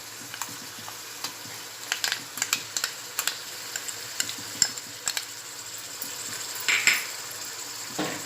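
Prawns frying in a pan as green masala is added and stirred, a steady sizzle with repeated sharp utensil scrapes and clinks against the pan, close and fairly quiet.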